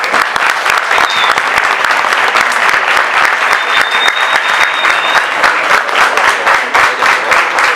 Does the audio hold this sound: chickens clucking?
no